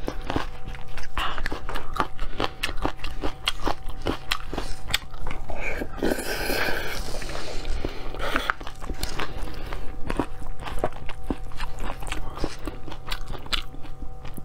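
Spicy noodles are bitten and chewed close to the microphone in an eating show, a steady run of wet, crunchy bites and chewing sounds with brief softer stretches in between.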